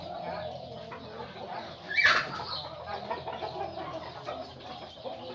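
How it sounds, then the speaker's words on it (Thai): Captive wild junglefowl kept in a cage gives a single short crow around the midpoint, moderately close and standing out from steady background chatter and rustle; someone talks throughout. "ตัวนี้ก็ขันแล้วกุกเดียวที่ว่า"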